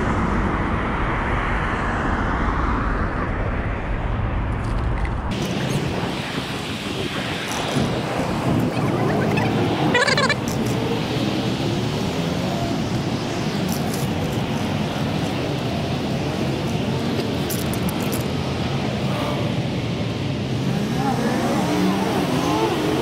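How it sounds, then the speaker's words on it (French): Dense car traffic rumbles around a large, highway-interchange-like roundabout at l'Acadie, heard from the roadside by someone not in a car, with constant broadband noise, heavy wind buffeting and a shift in character partway through, while a voice talks over it. "On est exposé au bruit des voitures"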